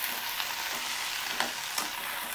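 Okra pieces fry in a hot pan for a Telugu-style lady's finger fry, giving a steady close sizzle with a few soft stirring scrapes and no talking.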